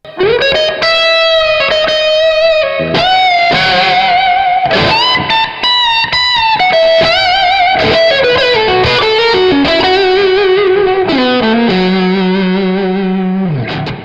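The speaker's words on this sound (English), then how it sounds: "I'm going to use my PRS SC245 standard to get a really classic blues tone, and I'm going to achieve that by using the vintage channel, which is Thomas's favorite channel" A PRS SC245 Standard electric guitar played through the vintage channel of a BluGuitar AMP1 amp, giving a classic overdriven blues tone: loud bent lead notes and sustained phrases ring out one after another, with no talking.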